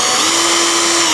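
A cheap knockoff drill-like power tool whines loudly and steadily as it spins, a close, constant high-pitched motor buzz.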